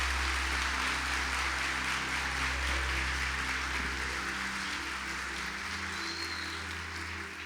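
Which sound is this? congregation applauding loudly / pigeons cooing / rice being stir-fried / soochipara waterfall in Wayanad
congregation applauding loudly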